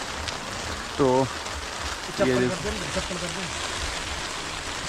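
Steady broadband rain patter falls during a snow camping trip, a continuous hiss close by, with a voice speaking briefly over it twice.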